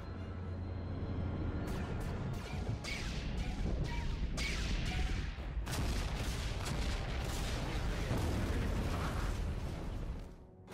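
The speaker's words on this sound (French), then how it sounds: "Les croiseurs vont ouvrir le feu avec leurs canons." Cruisers fire their cannons in a Star Wars space video game, a loud stream of booming blasts and explosions layered over a rumbling battle background, with several sharp bursts punctuating the din.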